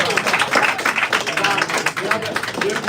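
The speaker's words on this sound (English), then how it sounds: "Give a round of applause." A comedy crowd at an Edinburgh Fringe Star Trek versus Star Wars show breaks into loud, dense applause, with clapping and some cheering filling the room in a continuous roar.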